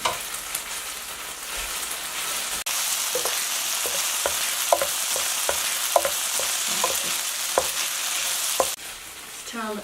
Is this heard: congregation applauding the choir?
no